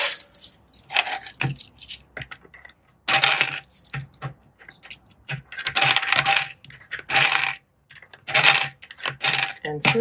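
Loose coins clatter and jingle in repeated bursts as they are poured out and handled, close and fairly loud, with brief pauses between handfuls and no talking.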